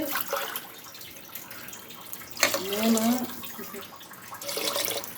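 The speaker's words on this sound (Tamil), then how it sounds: "இப்போ தண்ணி ஊற்றாச்சு" Water poured from a tumbler into a cooking pot for mutton biryani splashes in two loud bursts, separated by a short gap, while a voice counts between pours.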